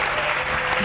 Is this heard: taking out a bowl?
no